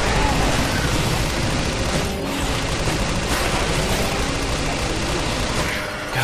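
Dense, sustained gunfire from the video game Shadows of the Damned, a steady loud roar of shots and mechanical clatter running throughout with no pause, briefly dipping near the end.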